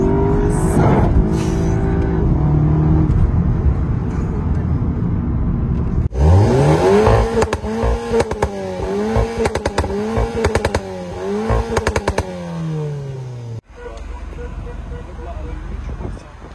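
A 300 hp VW Golf 7 GTI accelerates hard, its engine note rising and falling through repeated gear changes with sharp shift cracks. It sounds loud and close from inside the car, with people talking over it.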